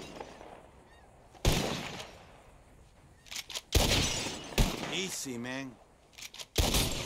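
Revolver shots in Red Dead Redemption 2 shattering bottles in a shooting contest, several sharp, loud cracks spaced irregularly with glassy breaks, between quieter moments where someone speaks briefly and another voice talks.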